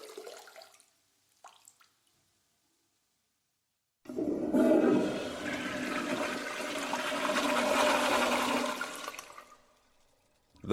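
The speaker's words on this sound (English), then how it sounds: "That's right. That's a toilet sound effect." A toilet flushes with a loud rushing roar of water that swells and then drains away to quiet, preceded by a few faint brief sounds and silence.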